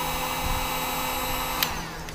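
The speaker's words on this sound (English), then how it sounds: "got the heat gun and just heat the glue up" A heat gun blows hot air onto wood glue in a gun-building workshop, giving a steady, close, unbroken whirring hiss with a faint hum underneath that holds level throughout.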